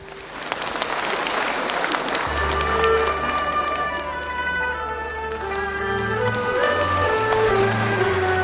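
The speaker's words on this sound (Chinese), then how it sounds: "掌声欢迎" Sustained audience applause fills a Shanghai theater stage at a Yue opera awards gala, a steady dense clatter of many hands that swells and holds, with instrumental music rising underneath partway through.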